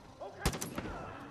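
A single sharp gunshot lands as a headshot in the shooter game Far Cry 5, loud and close, with a brief echoing tail.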